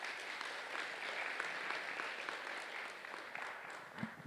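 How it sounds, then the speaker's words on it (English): Sustained audience applause for a speaker at a clinical research and engagement conference, a steady dense wash of many hands clapping that runs throughout with no voices. "Please give a round of applause again to Dr. Elise Smith."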